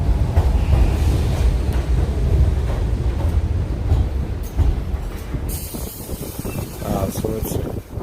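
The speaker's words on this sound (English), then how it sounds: "So we're taking the D train." A New York City subway D train rumbles through Brooklyn, a loud, steady low roar of rolling wheels and car noise with a brief hiss of brakes or doors near the end, heard from inside the car.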